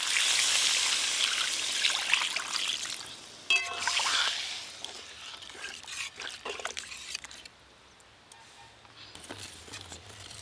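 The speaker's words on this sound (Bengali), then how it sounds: "আলু আর মশলা একসঙ্গে ভালো করে মেশানো হয়ে গেছে, এবার জল দিয়ে দেব।" Water is poured into a pan of potatoes and spices for a curry, a close splashing and trickling stream in the first few seconds that fades into quieter stirring and kitchen clatter.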